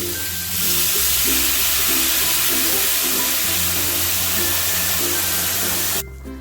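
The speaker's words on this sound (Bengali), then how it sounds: "এবার আমি জল দিয়ে দিচ্ছি দিয়ে গরম জল" Hot water poured into a pan of frying vegetables and spices for oats khichdi sends up a loud, continuous sizzle and hiss with a steady bubbling hum, cutting off abruptly near the end.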